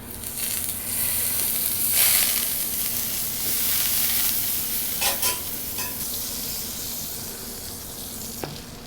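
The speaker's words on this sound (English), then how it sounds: "I'm just gonna toast our buns a little bit." Hamburger buns toasting face-down in butter on a hot grill during smash burger cooking, giving a steady broad sizzle with faint scraping and handling clicks, close and continuous with no talking.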